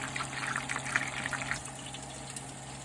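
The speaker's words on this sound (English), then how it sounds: "You want that heat nice and high when you're pan searing. If it ain't sounding like this when it's talking, then it ain't hot enough." Turkey pieces sear in a very hot pan with a loud, steady hiss and crackle that eases off partway through.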